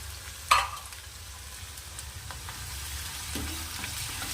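Onion with ginger-garlic paste fries in a pan for Vidarbha-style dal wange: a soft, steady sizzle with one sharp utensil knock early on and light stirring scrapes later, with no talking.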